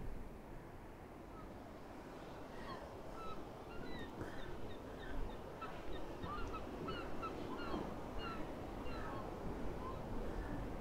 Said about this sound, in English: The seagulls are making noise, as seagulls always do.